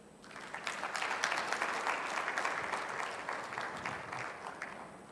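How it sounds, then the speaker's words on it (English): Audience at the opening of the 2022 Health Research & Policy symposium clapping, the dense applause swelling in and holding steady for several seconds. "Another big hand of applause."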